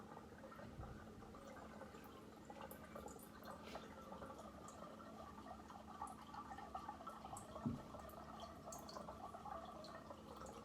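Tap water running while making mead, a faint, steady trickle and splash of filling liquid with occasional drips, low and constant throughout.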